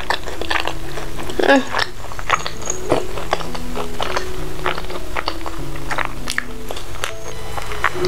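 Close chewing and biting of salted egg chicken with rice, vegetables and sambal, a steady run of moist crunches and mouth sounds that carries on throughout with no talk.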